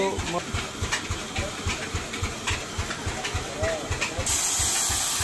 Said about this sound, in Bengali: কাকা মিলে মেশিন চালু করে দিয়েছে